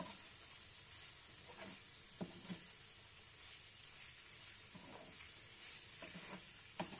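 Cleaned prawns frying in oil in a pan while being stirred, a quiet, steady sizzle broken by occasional soft scraping strokes, with no voices.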